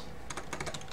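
Rapid keyboard typing clicks from a typing-style horror video game set in a motel, a quick burst of several keystrokes, faint and close, with no talking.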